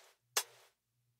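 A single hi-hat hit programmed in a lo-fi music production session, a crisp bright burst followed by a short fading tail, heard alone against near silence with a faint low hum.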